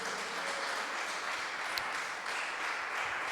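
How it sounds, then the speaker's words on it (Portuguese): A Pentecostal church congregation applauds during a celebration service, a soft, continuous wash of many hands clapping that sounds somewhat distant and even throughout. "Você pode aplaudir ao Senhor mais uma vez?"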